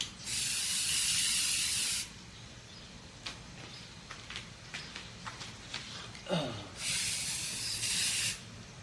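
A paint sprayer lays an even coat on a dining room wall in two strong, steady hissing bursts, one at the start and one near the end. Quiet handling noises and light clatter fill the gap between them.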